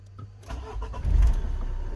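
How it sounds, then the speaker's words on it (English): The engine of a Renault Espace IV cranks briefly and then catches, rising into a steady close idle rumble that continues to the end, with no voices. "Let's see if I start the engine."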